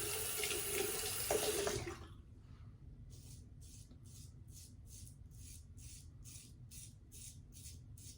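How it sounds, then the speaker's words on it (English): Tap water runs steadily as aluminum double-edge safety razors are rinsed beneath it. A loud, full splash of the stream hitting the razors drops to a softer flow with a series of short, rhythmic swishes. "For me, they both rinse out very easily,"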